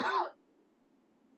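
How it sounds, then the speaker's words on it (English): A single short throat clearing or cough, close and fairly loud, cuts off abruptly into near silence. "cough one more time here."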